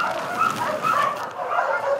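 Dogs at a shelter bark and yip in overlapping bursts, several animals at moderate distance, steady throughout without talk.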